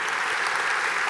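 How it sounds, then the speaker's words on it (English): A large keynote crowd at the Unite 2014 developer conference claps, a dense, even wash of applause from many hands filling the short moment. "Applause for you."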